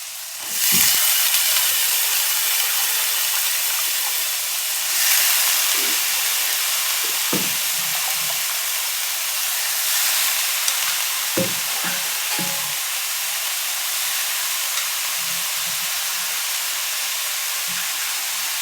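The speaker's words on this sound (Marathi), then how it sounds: "आपल्याला कोबी टाकून घ्यायचं आहे लगेच आता" Chopped cabbage and chana dal frying in a pan with a loud, steady hiss and sizzle throughout, broken by occasional scraping stirs and clinks, heard close with no talk.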